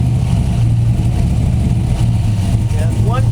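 An LS V8 engine fed by lawn mower carburetors, including a Predator unit, runs loud and close with a deep, steady rumble and slight rise in revs, while people talk over it.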